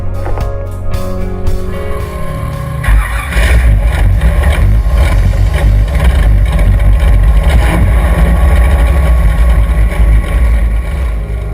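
Loud, powerful racing powerboat engines of the 750 class roar steadily close by at a race start, a deep rumbling drone that swells and stays heavy throughout.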